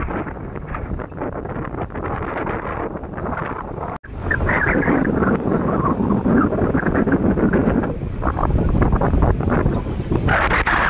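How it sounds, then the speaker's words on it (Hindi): Sea waves surging onto the shore at Ganga Sagar with strong wind buffeting the microphone, a loud continuous roar and wash that stays steady throughout with a brief dropout partway. "तो गाइस देखिए पानी की लहरें कितनी तेज आ रही है"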